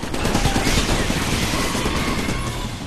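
Dense, continuous gunfire from the video game Iron Brigade, a steady barrage of overlapping shots that stays loud and close for the whole stretch.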